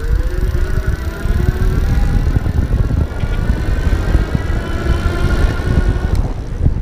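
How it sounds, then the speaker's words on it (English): EG Maui 500 EX electric bike motor under throttle, a rising whine that climbs steadily in pitch as it speeds up, with continuous road and wind noise close by. "I'm gonna start off in the throttle mode just to kinda show you what the motor sounds like and looks like"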